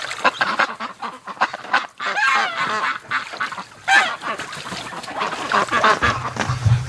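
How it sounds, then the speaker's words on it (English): Geese honk and Muscovy ducks quack in a tub in winter, a busy, overlapping run of harsh calls close by with no talk. "even with the geese, being aggressive in the tub, the ducks, just don't care."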